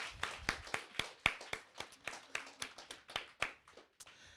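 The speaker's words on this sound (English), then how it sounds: "an early round of applause will help them" Scattered, loose clapping from a small audience at a senior reading event, individual hand claps distinct and uneven rather than a full roar, fairly quiet and close.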